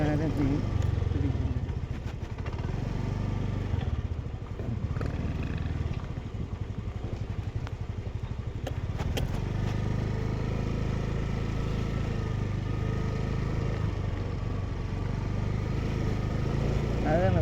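A motorcycle engine drones steadily while riding toward Kachitrodu Dam Road, with wind rush and road noise, and a voice speaks intermittently over the engine.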